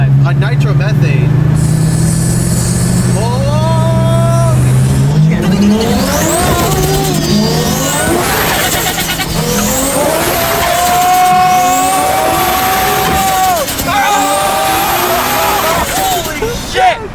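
A twin-turbo Mercedes C320 running on E85 revs hard and loud, its engine note climbing in repeated rising sweeps close by, with excited voices talking over it.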